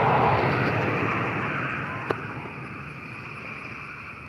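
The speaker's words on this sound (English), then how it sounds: "That's someone's car." A car sweeps past close behind on a road, a loud broad roar of tire and engine noise that slowly fades, with a sharp brief click partway through and no talking.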